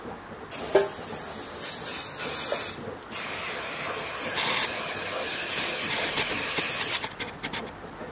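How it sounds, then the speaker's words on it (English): A can of non-stick cooking spray sprays in long hissing bursts, close and loud, with brief pauses between sprays. "So I've got my non-stick spray."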